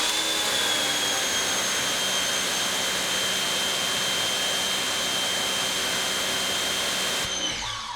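A Craftsman 1900 psi electric pressure washer sprays through a Ryobi nozzle, a loud steady hiss with a constant motor whine, running alone before cutting off near the end.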